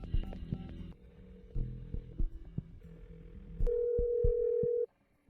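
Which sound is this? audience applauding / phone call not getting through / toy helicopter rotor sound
phone call not getting through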